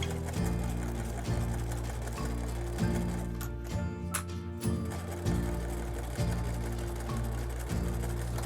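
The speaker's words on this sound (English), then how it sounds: "sewing together the lining and the facing pieces, taking care as best I could to avoid tucks and puckers, smoothing the lining fabric under the presser foot as I went" A home sewing machine stitching lining and facing fabric pieces for a rain cape, with a close, steady mechanical whirr and repeated rhythmic needle clatter, briefly easing mid-run before resuming at an even pace.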